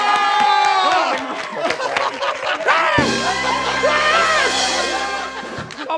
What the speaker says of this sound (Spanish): ¡Aplauso para Platanito!